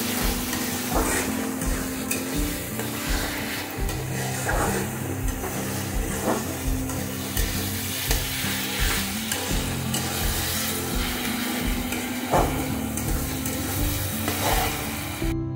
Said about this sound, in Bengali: এবার আমি সমস্ত মশলা ভালো করে কষিয়ে নেব।